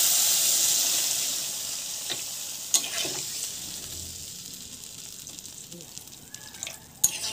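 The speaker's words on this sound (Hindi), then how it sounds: "अब हम पानी डाल देते हैं।" Water goes into a pan of bamboo curry that is frying in oil, giving a soft, fading sizzle and hiss with a few faint stirring clinks.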